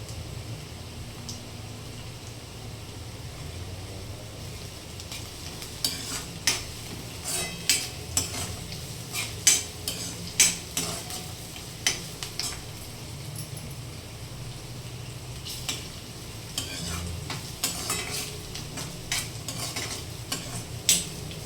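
Potato bhaji being stirred and fried in a pan for a tiffin lunch: a steady low sizzle with repeated scraping and clinking strokes of a spoon against the pan, closer and busier in the middle stretch, with no talking.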